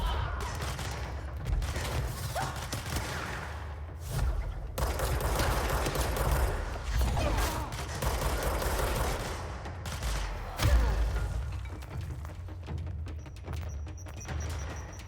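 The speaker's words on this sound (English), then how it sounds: "Who's throwing bombs at me?" Dense, continuous gunfire and blasts from the video game Control roar nearly nonstop, with one heavier boom late on. The sound is loud and close with no clear pauses.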